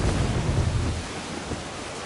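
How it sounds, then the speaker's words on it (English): A thunderstorm in steady, heavy rain, with loud low thunder rumbling through the first second and then easing into a constant wash of rainfall. No voices. "Storm coming! Looks bad!"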